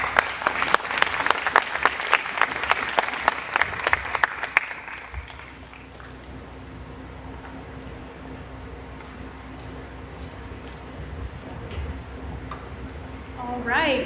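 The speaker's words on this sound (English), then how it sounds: "let's give a round of applause to all of our speakers today" Audience applause for the speakers at an avionics program ribbon cutting, loud dense clapping for about five seconds before dying away into room murmur and quiet talk.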